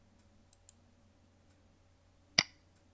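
A single crisp computer mouse click, close and distinct, stands out against a quiet room hum, with a couple of fainter ticks before it.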